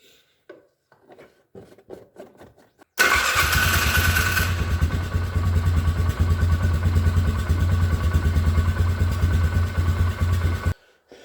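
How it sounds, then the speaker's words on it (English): A 2010 Polaris Sportsman 500 HO ATV engine fires up after a few faint knocks and settles into a loud, steady, throbbing idle as it warms up after an oil and spark plug change, then cuts off near the end. "fire the quad up, let it warm up a little bit"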